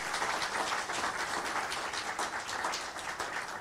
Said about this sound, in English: Ladies and gentlemen, please, a bigger round of applause.